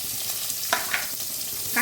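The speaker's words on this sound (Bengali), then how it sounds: "পেঁয়াজটাকে একটু ভেজে নিচ্ছি।" Chopped onions fry in oil with bay leaf and whole cumin for a tangy-sweet-spicy rohu fish curry, giving a steady close sizzle broken by a few spatula clinks and scrapes.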